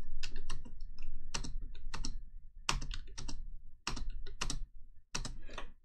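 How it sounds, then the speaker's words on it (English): Someone types on a computer keyboard, spacebar among the keys, in close, crisp clusters of clicks with brief pauses between bursts. "if we push spacebar, it tells us that that node has been activated"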